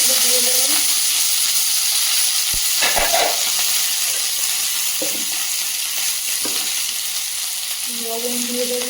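Onions frying in hot oil with dried red chillies and garlic, a steady bright sizzle running throughout, close and fairly loud, with a few clinks of a utensil against the pan and brief low voice-like hums near the start and end.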